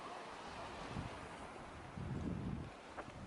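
Wind blowing along the seashore on the Gangwon coast, a steady broadband rush buffeting the microphone with louder gusts swelling in briefly, no voices present.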